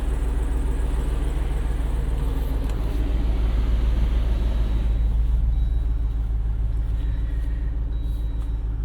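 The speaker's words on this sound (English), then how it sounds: "got the performance exhaust toggled to on. It does have an active exhaust." A 2024 Jeep Wrangler 392 Final Edition Hemi Rubicon with its active performance exhaust opened drones with a steady, deep idle rumble close by, no voices over it.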